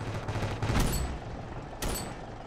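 Gunfire in the Ravefield shooter video game, during a battle to capture a snow fort: a loud, dense burst of rapid shots, then a brief lull and a second sharp volley, with no talk.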